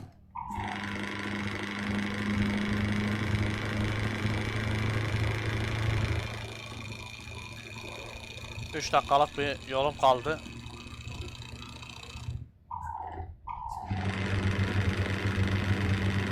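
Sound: Scania R700 truck engine with Kurt exhaust, video game

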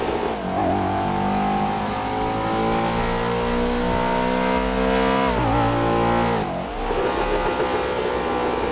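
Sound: car engine revving in video game GTA 5

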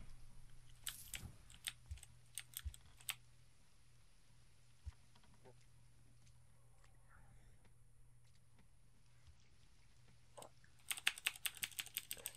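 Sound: computer keyboard typing spam

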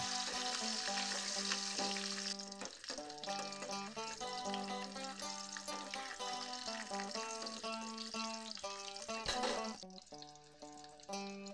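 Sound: potatoes frying in oil

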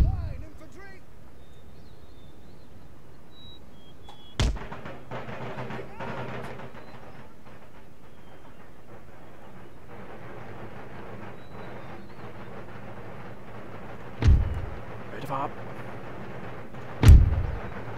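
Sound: infantry volley fire in Empire Total War video game

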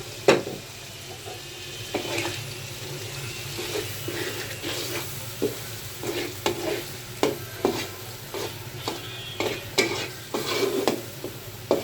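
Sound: shoal fish sautéing with ginger paste, stirred

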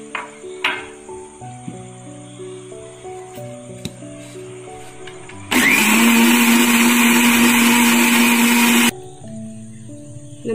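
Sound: mixer grinder beating homemade mayonnaise

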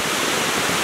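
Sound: water trickling over a small dam at a lake

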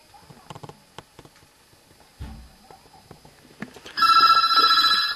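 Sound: telephone bell ringing

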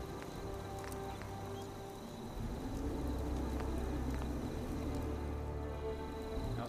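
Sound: rain in the video game Fallout 4

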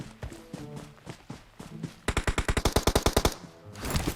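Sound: gunfire in PUBG Mobile video game

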